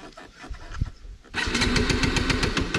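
An NS 200 BS3 motorcycle's self-starter cranks in a rapid, even chugging rhythm that keeps going without the engine catching, loud and close after a brief stretch of quieter handling noise.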